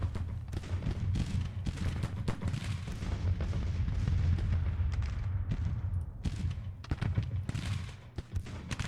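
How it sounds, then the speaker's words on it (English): Civil War 6-pounder field guns firing in Grand Tactician make a dense, rumbling battle din with repeated low booms over sustained background noise, loud and fairly steady throughout. "we're giving F Battery of the 2nd US Regiment some fire from our 6-pounder field guns"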